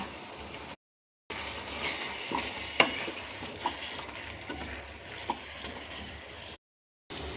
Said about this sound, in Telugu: కరివేపాకు కొత్తిమీర వేసేయాలి నీరు వంచేసిన దొండకాయలని కూడా ఈ విధంగా వేసేసుకోవాలి